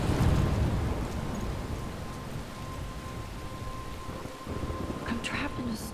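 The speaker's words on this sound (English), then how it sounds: "I'm trapped in a storm?" Thunderstorm with heavy rain in the Life Is Strange video game: a dense, steady downpour with low rumbling, and a few faint sharper crackles near the end.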